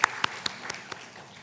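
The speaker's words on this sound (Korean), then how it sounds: "우리 하나님께 영광의 박수 올려드리겠습니다." A church youth group congregation claps in a short burst, a few sharp distinct claps spaced evenly and fading away within about a second, close and fairly loud.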